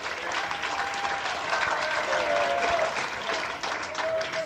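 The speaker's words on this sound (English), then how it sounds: "Having a nice round of applause." A large audience applauds steadily, a dense wash of clapping that holds throughout, with faint cheering mixed in.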